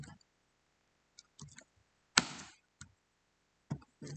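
Sharp clicks of typing on a computer keyboard come in scattered short bursts with long silent gaps between keystrokes, close and fairly quiet.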